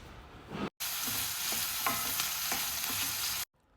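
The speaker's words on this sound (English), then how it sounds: "I have added the capsicum now. Just saute for a minute." Capsicum, onion and tomatoes sauté in a hot pan for a hotel-style Kharabath, a loud, continuous sizzle with scattered stirring clicks, abruptly starting and stopping, no voices.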